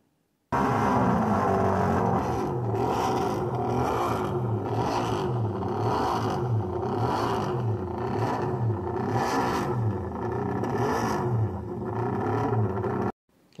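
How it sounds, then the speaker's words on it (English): A loud, close MV Agusta three-cylinder racing motorcycle engine revs in a steady series of rhythmic rising pitches, throttle blips repeating for over ten seconds before it stops. "Now listen to the three-cylinder."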